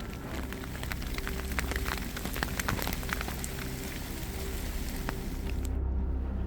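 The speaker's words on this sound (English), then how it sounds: "then rain showers the next" Rain showers patter steadily across a pine forest trail in Glacier National Park, a dense broadband hiss of drops on the surface holding at an even level throughout with no voices.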